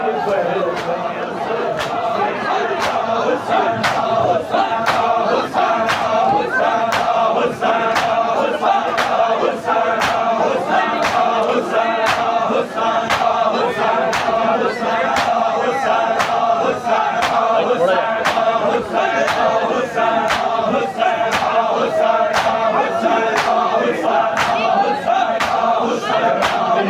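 A dense crowd at a 24 Safar religious procession (juloos) in Pir Mahal chants loudly in unison, the massed voices carried over steady, evenly spaced sharp beats that continue the whole time.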